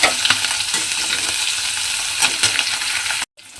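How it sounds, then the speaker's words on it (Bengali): Fish pieces frying in hot oil for an aam rui dish, a steady close crackling sizzle with occasional louder pops and stirring scrapes, cutting off briefly near the end. "এবারে আমি একটা একটা করে মাছ তেলের মধ্যে দিয়ে মাছগুলোকে আমি একটু লাল"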